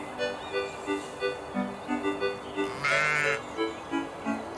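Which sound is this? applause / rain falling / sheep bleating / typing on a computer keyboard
sheep bleating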